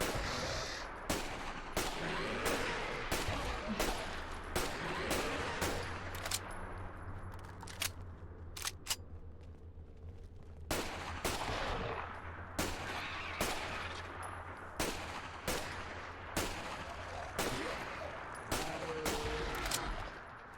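Gunfire in the video game Fallout 4 rings out while shooting zombies, sharp repeated shots in rapid irregular bursts with a brief lull midway, loud and dense.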